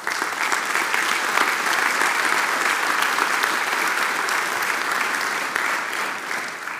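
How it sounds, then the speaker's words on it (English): Sustained audience applause fills a conference hall for the Markel events team, dense and even throughout before tapering slightly at the end, with no talking over it. "Could we please give them a round of applause?"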